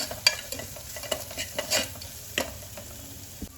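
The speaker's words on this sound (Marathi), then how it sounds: "तर हे छान परतून घ्यायचं" Masala of onion and garlic with a little salt being sautéed in a pan, heard as a soft sizzle with scattered stirring scrapes and clinks, fairly quiet and close, no voices.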